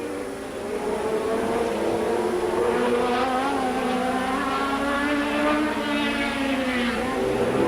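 Can-Am and Trans-Am race cars at speed on the Trois-Rivières street circuit in 1982, a steady blended engine drone at moderate distance with pitch swells as cars pass, faint commentary-like voice underneath.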